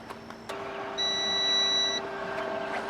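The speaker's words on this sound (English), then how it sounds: "Now you should hear a beep from the inverter." A power inverter gives a steady electronic beep lasting about a second, heard over a faint background hum with a couple of soft clicks nearby.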